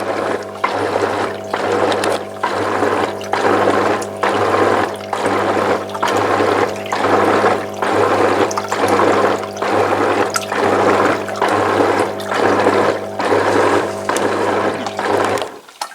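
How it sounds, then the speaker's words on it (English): Bubble aerator running steadily in water, a loud continuous bubbling wash with a constant low hum and regular pulsing surges throughout. "It's got this like bubble aerator thing in it."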